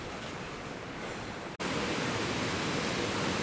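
Waterfall at Malham in the Yorkshire Dales, a steady broadband rush of falling water that fills the scene, interrupted by a brief cut before the continuous roar resumes slightly louder.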